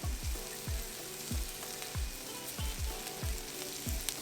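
Seasoned fajita vegetables sizzle on a five-burner Pit Boss griddle, a quiet, even frying hiss broken by a regular series of low thumps roughly every half second, with no voices.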